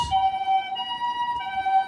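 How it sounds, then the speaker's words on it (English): An ambulance siren sounds on a street in Shibuya, Tokyo, its steady tones loud and close, with faint traffic noise underneath. "Let me just let this ambulance pass first."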